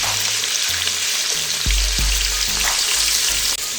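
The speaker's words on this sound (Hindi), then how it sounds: "थोड़ा लाइट सा जो है वो फ्राई करेंगे इन कद्दुओं को इस तरह से" Bottle gourd pieces for kadu gosht fry lightly in a pan with a constant near sizzle, while a spoon stirs with a few dull thumps and scrapes against the metal. No one speaks.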